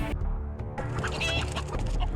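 Chicken clucking sound effect from the video game Call of Duty: Modern Warfare 2, a short burst of close, loud clucks over a dense game soundtrack with no talking.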